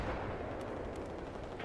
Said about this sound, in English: Giant explosion